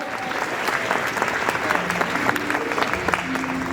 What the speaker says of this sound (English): How about a round of applause for our volunteer